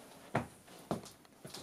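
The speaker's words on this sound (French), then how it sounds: "Bruit de pas normaux." Three soft footsteps, spaced about half a second apart, fairly quiet against a hushed room.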